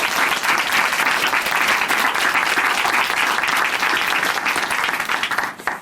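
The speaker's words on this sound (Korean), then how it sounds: "우리 다시 한번 정다운 자매님께 응원의 박수 보내드리겠습니다." A church TV program audience claps in encouragement, producing a thick, sustained wall of applause at close range that fades out in the final moments.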